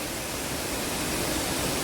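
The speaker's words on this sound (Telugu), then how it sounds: "వాటర్ ఫాల్స్ మధ్య మలాలై" Mallalli Falls pours in a steady, dense roar of rushing water, heard close and loud with no break and no voices.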